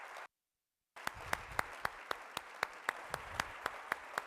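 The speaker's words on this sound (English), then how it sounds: "let's welcome with a big round of applause" An audience greets a speaker at an international event with applause. After a brief silent gap, soft, thin clapping starts, with sharp regular claps that stand out over the quieter background of hands.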